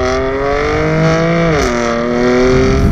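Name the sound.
BMW M4 F80 performance exhaust revving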